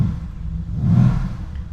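A 2016 Mercedes-AMG GT S engine given a quick rev, a low rumbling idle that swells briefly into a throaty surge near the middle before settling back, close and moderately loud with no talking.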